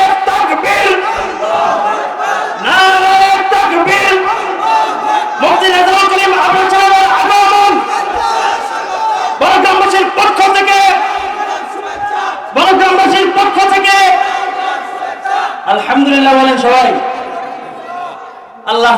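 A large crowd at an Islamic religious sermon chants takbir in loud, repeated waves of massed voices, answering a preacher's call with several rising and falling shouts across the whole stretch.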